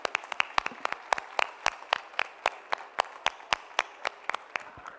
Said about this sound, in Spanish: Ese aplauso fuerte para ellos.